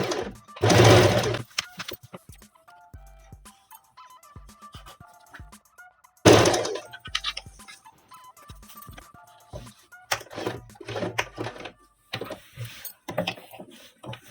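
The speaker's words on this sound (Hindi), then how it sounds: "चलिए अब हम इस पे सिलाई लगा लेते हैं।" Sewing machine stitching a petticoat, heard as two loud close bursts of rapid mechanical running and a clattering series of short stop-start stitches between and after them.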